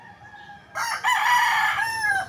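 Three-month-old young roosters in a backyard among bamboo, one giving a short, loud crow lasting under two seconds, close by, with soft background noise before it.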